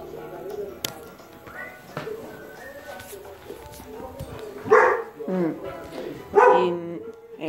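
A pet dog barks several times, sharp loud yaps clustered toward the end, mixed with cooing-like sounds and a person talking through much of it.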